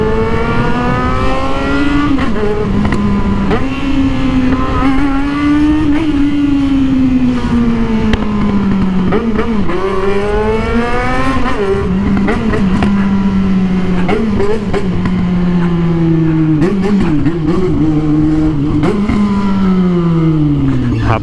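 A Yamaha XJ6 motorcycle's inline-four engine revs loud and close, climbing and falling in repeated throttle blips and sustained high-rpm pulls, tone rising and dropping again and again.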